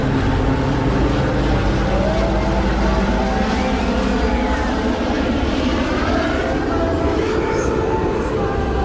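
Helicopter noise overhead: a loud, continuous low rumble and whir that holds steady throughout, with faint voices mixed in.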